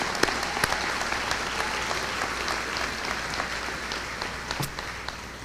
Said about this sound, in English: go ahead and applaud for them.